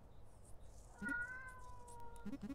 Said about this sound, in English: I hear a kitten meowing behind me.